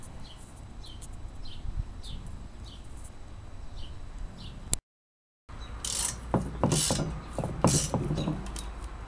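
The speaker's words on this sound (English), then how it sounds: "Here we're moving the bolts that are left from the headrest to get them out of the way for the rest of the cleanup." Metal bolts being worked loose from an old go-kart headrest during cleanup, giving a steady run of ratcheting, clicking mechanical sounds, with a short silent break partway and busier, louder clanks afterward.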